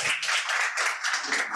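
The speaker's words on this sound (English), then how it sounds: "Please give a round of applause." Audience at a South African post-election leadership event giving a round of applause, a dense burst of many hands clapping together, fairly close and steady for under two seconds.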